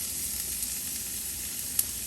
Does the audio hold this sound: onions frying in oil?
yes